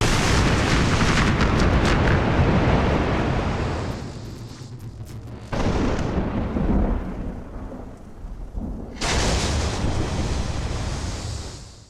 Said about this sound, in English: That thunder, that's intentionally supposed to be super loud.